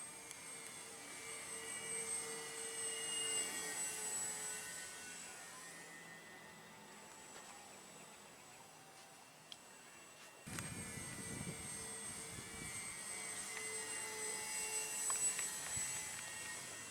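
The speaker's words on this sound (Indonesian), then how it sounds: "Setelah CG dikoreksi menjadi 6 cm, pesawat bisa terbang dengan baik." Twin-motor ATR-72 600 RC model plane in flight, a steady electric motor whine that rises and fades as it passes, moderately distant, with a brief change around the middle and no speech.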